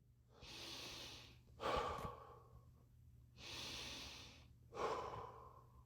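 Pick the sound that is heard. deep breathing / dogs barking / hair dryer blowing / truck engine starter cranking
deep breathing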